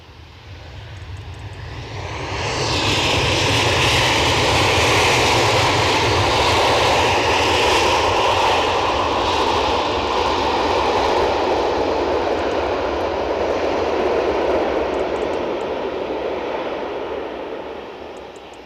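A landing airliner arriving at Edinburgh Airport at dawn, its broad engine roar swelling in after a couple of seconds and holding loud and steady before easing slightly toward the end, with no talking.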